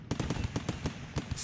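Gunfire from a shooting-training session in the video game Rimworld: a rapid, evenly spaced string of about a dozen sharp shots, fairly quiet and with no talking.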